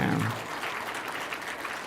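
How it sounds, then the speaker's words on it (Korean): A church congregation claps during a Sunday morning worship service, a short burst of dense applause that is loudest at the start and stays steady for about two seconds, with a voice faintly underneath. "우리 박수 한번 해주시길 바랍니다"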